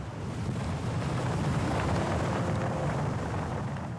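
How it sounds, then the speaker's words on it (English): Strong wind buffets the microphone at the edge of a cliff, a loud steady roar with low rumbling gusts and a faint surf-like hiss throughout, with no one talking. "the wind suddenly picks up. The wind is really strong."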